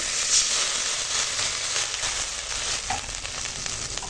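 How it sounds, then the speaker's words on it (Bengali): Spice paste sizzles and hisses in a hot pan as water goes in, a bright, continuous crackling frying sound with faint stirring, close up and without speech. "মশলা কষানো হয়ে গেছে, এবার জল দেব।"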